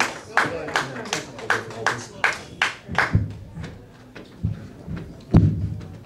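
Audience at an open-mic comedy night at The Brew House Gallery claps for a comedian coming to the stage: sharp, evenly spaced handclaps at first, then fewer and sparser, with voices murmuring around them.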